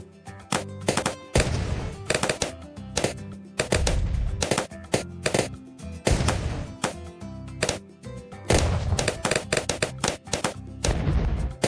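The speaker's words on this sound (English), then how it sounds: "This guy shooting at the back does kind of make us look weaker too" Bursts of automatic gunfire and single shots from a shooter in the video game Augmented Empire, loud and close, firing in repeated volleys with short pauses between them.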